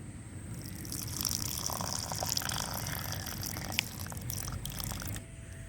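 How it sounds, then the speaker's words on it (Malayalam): Water is poured into a freshly planted pot inside a handmade flower vase, a steady soft splashing trickle that runs for several seconds and then stops. "അപ്പോൾ ഫ്രണ്ട്സ് നമ്മളിത് കുറച്ച് വെള്ളം ഒഴിക്കും."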